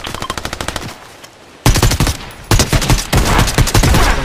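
Fortnite gunfire in a squads match: a quick run of rapid automatic shots, a short lull, then loud, close bursts of sustained automatic fire.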